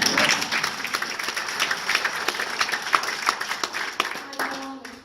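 Town hall crowd in Battle Ground, Washington breaking into applause, a busy patter of many hands that holds steady, then thins out near the end as a voice begins under it.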